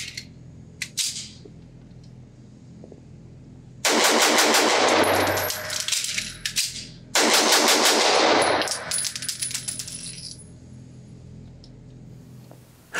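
Nighthawk Custom Sandhawk 2011-type pistol fired rapidly in two fast strings with a magazine change between, each string a dense burst of close, loud shots, with handling clicks before and after.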